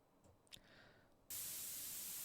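A car exhaust is spray painted in the Car Dealer Simulator video game. A few faint clicks come first, then a sudden loud, steady hiss of spray.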